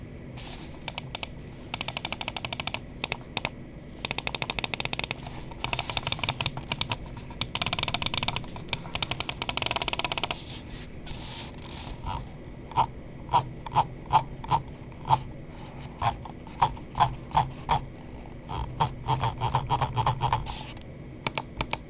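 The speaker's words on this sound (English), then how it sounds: "let's go ahead and drop the click sound test" Endgame Gear XM2w 4K wireless gaming mouse buttons clicked repeatedly up close: rapid bursts of crisp clicks early on, then slower single clicks spaced out over about twenty seconds, with no talking.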